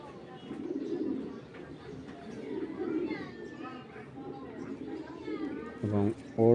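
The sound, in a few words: male racing pigeon cooing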